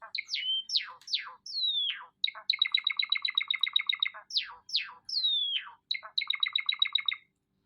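Ring-necked parrot Kalua gives melodic whistles, sweeping chirps and rapid rattling trills in repeated phrases, clear and fairly close with no talking over it.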